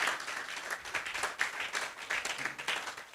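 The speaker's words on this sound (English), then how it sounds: "I think if you're clapping, you can do better than that." Audience at a virtual assistant business summit keynote applauding, a dense, moderate wash of many hands clapping together, steady throughout with no speech.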